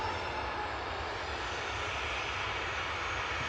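A Ryanair airliner departing Manchester Airport for Dublin gives off a steady, loud engine roar that holds throughout, broadband and continuous, with no voices.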